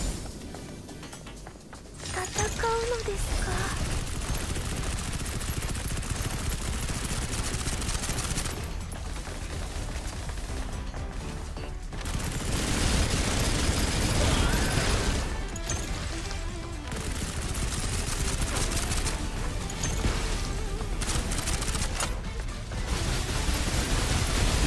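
Sustained, rapid weapon fire in the video game Snowbreak: Containment Zone, loud and dense for most of the stretch, with a few brief pauses between long bursts.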